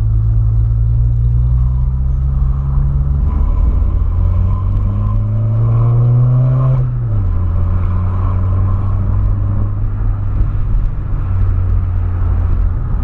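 A Volkswagen Polo Sedan with a 1.6 engine revs up loudly, its low droning pitch climbing and then dropping back to a steady rumbling idle, heard close and alone.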